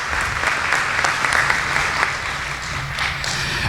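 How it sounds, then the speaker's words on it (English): Dinner guests at a sheriff's office service awards event give a sustained round of applause for 15-year service award recipients, dense, even clapping from a large room that holds steady before easing slightly. "Let's have one more round of applause for all of our 15-year service award recipients."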